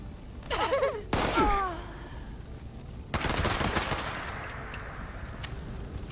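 Gunfire from the video game Fallout 76, a couple of loud broadband bursts of shots separated by pauses and followed by tonal game effects and chirps, with no talk over it.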